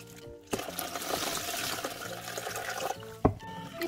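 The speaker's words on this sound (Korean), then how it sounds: "어느 정도 깨끗한 물이 나오도록 한 두세 번 정도 헹궈줍니다." Fresh seaweed being rinsed by hand in water two or three times, with close sloshing and swirling water, a splashy knock near the end.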